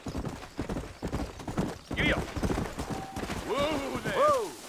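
Horse hooves clopping at a steady riding pace in Red Dead Redemption, close and rhythmic, with a voice and a short whinny-like cry over the hoofbeats.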